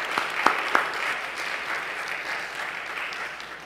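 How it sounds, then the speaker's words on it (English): Audience at an evening talk event applauding, a steady wash of many hands clapping at moderate distance, with a few sharper nearby claps at the start and a gradual fade. "Let's have a big round of applause for Kari and Kerry."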